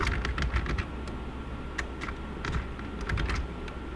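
Close fingers typing an SQL query on a computer keyboard, quick irregular bursts of clicky keystrokes with short pauses between words, over a low steady room hum.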